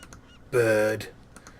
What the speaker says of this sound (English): Come back here, bird.